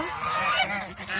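Geese honking together on a goose farm, a dense, continuous chorus of overlapping nasal honks filling the clip, loud and close, with no speech.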